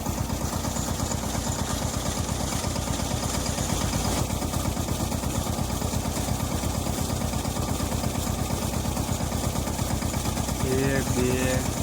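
A mini tractor engine runs steadily through a soybean field spraying job, its close, throbbing mid-low chug continuous and unbroken, with a brief burst of voices near the end.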